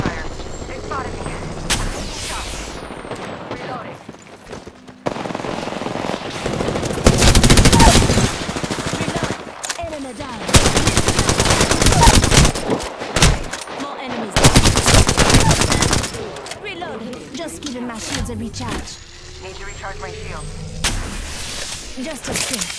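Intense Apex Legends gunfire roars in dense automatic bursts and single shots, loud and close, with explosions and overlapping weapon noise through most of the stretch and brief quieter gaps.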